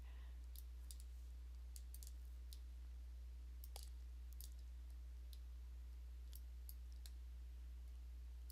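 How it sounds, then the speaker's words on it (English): Computer mouse clicking while drawing fencing in landscape design software, sharp light clicks arriving in irregular bursts over a steady low electrical hum, close and quiet. "And I'm just clicking and dragging."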